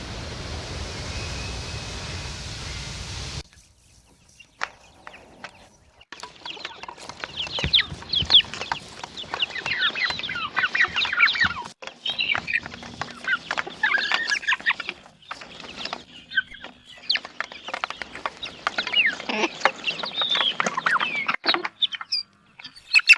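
Rooster and hens clucking and calling around a woodland homestead yard, a run of busy mid-distance bird chatter with scattered louder squawks after a brief noisy start.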